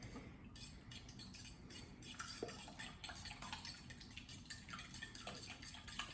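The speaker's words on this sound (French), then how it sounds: "je suis en train de mélanger le yaourt avec les œufs" Yogurt and eggs being mixed in a bowl for a Yule log cake, quiet clinking and scraping of a utensil against the bowl in quick irregular strokes, with no talking.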